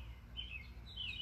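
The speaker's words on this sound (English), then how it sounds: "I love hearing the birds chirp in the morning." Birds chirp in the morning, a few thin high tweets and short whistled calls spaced apart over a faint low background hum, fairly quiet and with no voices.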